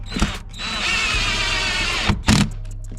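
A power drill tightens a Torx T30 screw on a BMW F10 5 Series door, one steady whirring run of about a second and a half, bracketed by short clicks and handling knocks.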